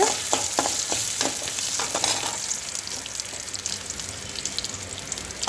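Garlic cloves and dried red chillies fry in hot oil for a chutney, giving a steady close-up sizzle with a few sharp stirring scrapes in the first couple of seconds, then a continuous hiss.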